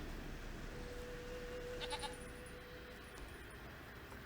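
A goat bleats in the video game The Witcher 3: one faint, brief bleat in the middle over a quiet background hum.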